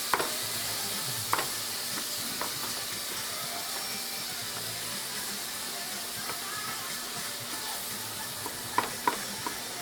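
A spatula chops chorizo in a sizzling frying pan, with a continuous hiss of frying under scattered sharp scraping knocks and a few louder clacks near the end, with faint background music or talk.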